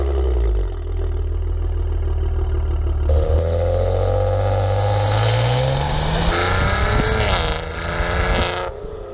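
A 2016 Maserati Ghibli S Q4 with dual-tip quad exhaust idles with a deep, loud rumble, then revs sharply several times, the engine note climbing and falling close by.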